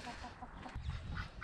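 Chickens cluck near their chicken house in an orchard garden, a few soft, close clucks and low throaty calls over a brief, quiet moment.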